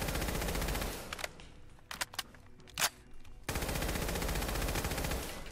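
Rapid automatic bursts from a service rifle in Fallout 4, dense continuous gunfire for over a second, a short gap with a few scattered single shots, then another long sustained volley to the end.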